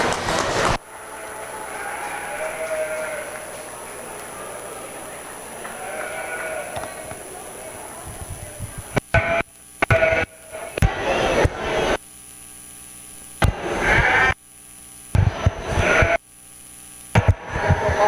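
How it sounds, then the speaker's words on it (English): Dorper and medium wool market lambs at a sheep show bleat in a busy ring over a constant hum, with scattered louder calls and intermittent clatter toward the end. "The Dorper sheep will be second."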